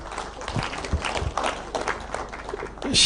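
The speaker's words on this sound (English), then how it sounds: "That one deserves a loud applause" Senators at a retreat give a round of applause in a hall, clapping that rises and swells toward the end, with faint voices mixed underneath.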